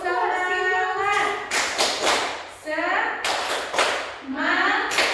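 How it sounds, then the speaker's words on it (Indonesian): A school class does a spirit clap: a group of children claps in rhythmic bursts between loud chanted voices, the claps sharp and close, alternating with the children's shouted call. "Nah, tepuk semangat."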